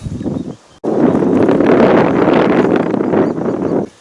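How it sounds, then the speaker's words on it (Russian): Wind gusts hard against the microphone, a loud roaring rush with a short break before it picks up again. "Ветер поднялся."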